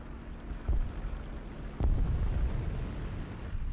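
Two heavy tank cannon shots from the EBR 1954 in the combat game War Thunder: deep, booming blasts about a second apart, each with a low rumbling tail over constant engine drone.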